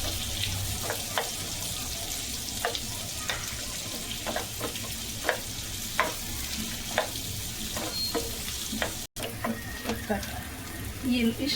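Onions frying in oil in a pan for a Kannada-style mutton ghee fry, a steady close sizzle with repeated stirring scrapes at a slow, regular pace, briefly cut off once and then resuming.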